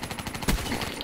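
Gunfire in the video game Call of Duty: Black Ops III, a short loud burst with a heavy shot in the middle, mixed into busy game sound.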